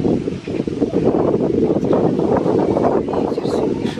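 Cold wind blows steadily across an outdoor bear enclosure, a gusting rushing roar buffeting the microphone throughout with faint rustling.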